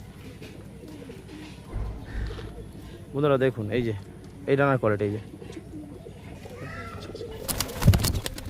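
Pigeons coo in a loft in repeated low, throaty bursts, two clear rolling calls mid-way plus fainter ones, while someone talks nearby and a brief rustle or wing flap comes near the end.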